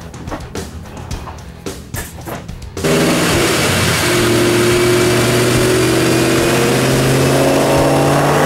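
A Vortech-supercharged 2011 Mustang 5.0 Coyote with a JLT intake on a dyno: irregular bursts at first, then a loud, sustained engine roar climbing steadily in pitch with a rising supercharger whine.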